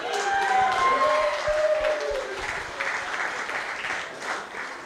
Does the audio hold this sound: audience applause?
yes